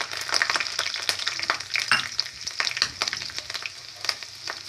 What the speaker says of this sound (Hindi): ऑयल हमारा गर्म हो चुका है, अब हम इसमें मसाले डालेंगे।